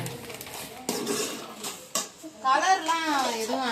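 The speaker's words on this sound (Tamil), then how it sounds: "இந்த மாதிரி கிண்டி விடணுமா ரொம்ப நல்லா கிண்டி விட்டுருங்க" A spoon scrapes and clinks against a pot while a sweet mixture of cashews, raisins and sugar is stirred, a few sharp metallic knocks followed by a person talking.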